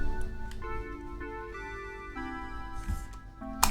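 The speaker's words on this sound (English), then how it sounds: "we have this Charming Sunday preset from the Mini V plugin, which also layers the main piano line" A Charming Sunday synth preset from the Mini V plugin plays sustained tonal notes layered with a piano line, chords shifting every second or so, clean and moderately quiet with a brief percussive click near the end.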